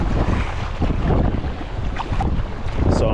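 Strong gusting wind buffets the microphone while waves slosh and splash around an Advanced Elements AirFusion inflatable sea kayak, a loud, continuous roar with rougher surges throughout.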